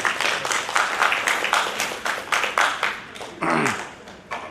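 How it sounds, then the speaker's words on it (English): An audience claps at a university golden jubilee celebration in Kakinada, the applause coming in rhythmic bursts that swell and dip over a few seconds, moderately loud with no talking over it. "Let's give a big clap once again."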